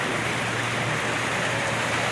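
Steady rain falling continuously in a rural village setting, a dense even hiss with no pauses.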